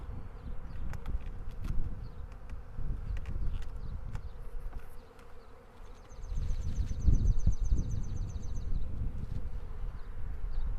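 A steady, dense buzzing of many honeybees close by in an open hive, swelling louder partway through, with a faint higher whine drifting over it.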